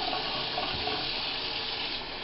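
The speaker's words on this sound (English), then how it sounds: "You're just going to run some water in there." Water runs steadily from a tap into a basin, a close, continuous rushing splash with no voices.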